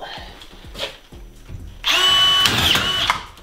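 A power drill drives screws through wood framing while fixing insulation boards in a troglodyte farmhouse renovation, a loud close whirring burst after some quieter handling noises and a brief voice.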